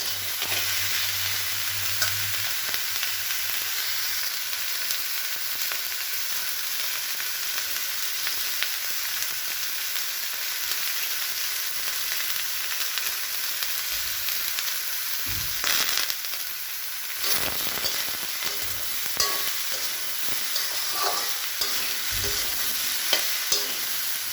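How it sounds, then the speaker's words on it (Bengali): Mixed vegetables with lentils stirred and frying in a pan, a steady close sizzle with scraping stir strokes through the middle and later part, no talk. "এবারে একটু নেড়ে আমি লবণের গুঁড়ো দিয়ে দেবো"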